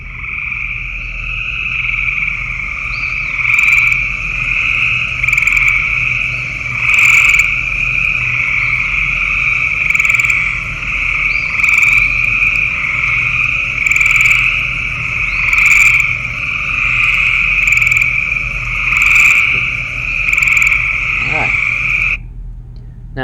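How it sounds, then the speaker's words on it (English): A chorus of wild frogs croaks continuously outdoors, with a sustained shrill trilling tone and regularly pulsing louder bursts every couple of seconds. Faint insect chirps sit underneath, and the chorus cuts off near the end. "some species of frogs can hit 140 decibels no problem, right?"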